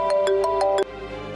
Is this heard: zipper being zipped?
no